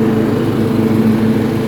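A free riding lawn mower fitted with ag tires and a hood scoop runs at a steady, even drone, close and continuous, with no other sounds.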